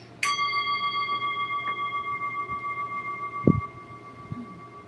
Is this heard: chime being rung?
yes